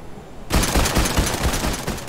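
Fortnite gunfire, a sudden burst of dense rapid shots after a quiet half-second, loud and sustained like a fusillade, with no voices.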